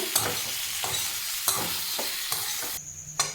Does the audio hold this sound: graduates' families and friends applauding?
no